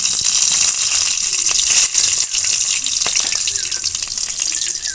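Dried red chillies crackle in hot oil in a kadai for a vegetarian Bengali dish, a steady bright sizzle that runs through the whole clip, with a few small pops on top and no voice.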